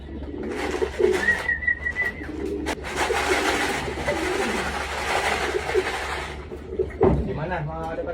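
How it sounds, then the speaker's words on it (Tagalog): Pigeons cooing during homing pigeon race training in Palayan, Nueva Ecija, with soft low coos scattered through steady outdoor background noise, thuds and a passing whistle-like tone while people talk nearby. "Lima na mga kalapatid."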